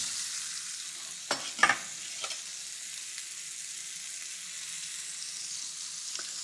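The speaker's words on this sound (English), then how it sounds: "The pan is just starting to smoke, and so my pork chop goes into the pan." A pork chop sears in a smoking-hot pan, a soft steady sizzle with a few sharp knocks and clatters as the meat goes in and settles, no speech over it.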